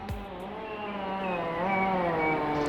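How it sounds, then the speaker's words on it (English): Chainsaw cutting and felling trees in a New Zealand forest near Queenstown, a steady droning buzz with wavering harmonics running continuously from a distance, fairly even in loudness with a short knock at the start. "So unfortunately, we are listening to the sounds of a chainsaw."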